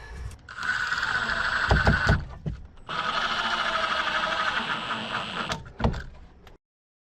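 Cordless drill driving 2-inch deck screws into a fridge slide in a Ford Bronco, two long steady whirring runs with short gaps and clicks between them, close and alone.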